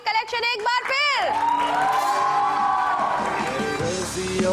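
Studio audience on an entertainment show bursts into sustained applause and cheering, loud and continuous, after a host's short spoken introduction.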